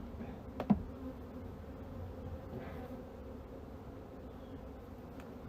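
Bees buzzing during a beehive inspection, a soft, continuous drone from many insects close by, with a brief knock near the start and a few individual buzzes passing; no speech.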